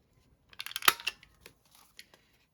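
Scissors cutting an envelope down for a journal page, a short cluster of quick crisp snips followed by a few softer scattered clicks in a quiet room.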